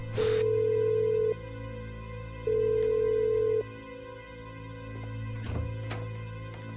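A telephone line tone sounds in two long, steady electronic beeps separated by a pause, then the line goes quieter.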